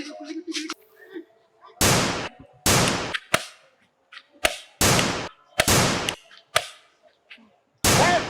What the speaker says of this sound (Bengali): গুলি কর গুলি কর।